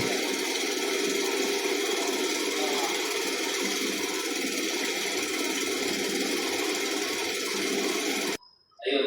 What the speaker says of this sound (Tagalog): habang umiikot yung bowl niya, nag-iikot rin yung blade niya para mag-chop yan